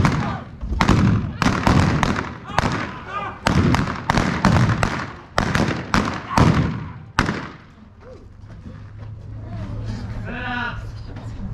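Sharp gunshots fired in rapid succession during a western gunfight, about a dozen loud cracks over several seconds, close and punchy, followed by quieter bleating and background sound.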